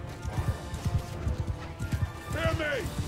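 Horses in the Mount & Blade II: Bannerlord video game galloping with steady, rhythmic clip-clop hoofbeats, then a loud neigh rising near the end, under a battle scene with voices talking over it.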